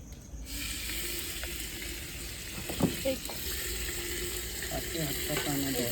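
Chicken poured into hot oil already holding whole cumin, cloves and dried red chillies, giving a steady close sizzle and frying hiss with a brief clatter as it goes in, then continued crackling with some stirring.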